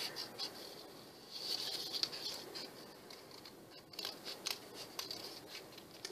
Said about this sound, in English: Kind of just cut